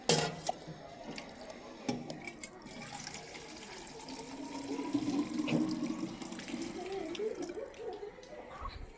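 Milk is poured into a measuring vessel, a soft continuous liquid stream and splashing that rises slightly in pitch as the container fills, with a few clinks and quiet voices nearby.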